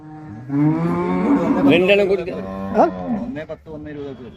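Cattle moo loudly and close at a bull and cow market in Pollachi, a long bellowing call with shifting pitch, while other animals and faint voices sit in the background.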